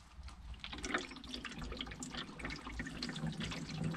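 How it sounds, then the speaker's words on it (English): Water is poured into the channel around the boot of a Ford Focus mk3, a continuous splashing trickle with irregular drips and gurgles, close and steady for several seconds without speech. "I'm going to start pouring water into the channel around the boot"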